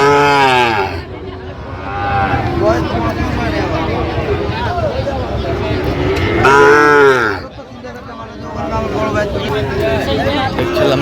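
Sahiwal cattle at a livestock market give several loud, close, drawn-out moos, one after another, over a constant din of crowd chatter and nearby voices.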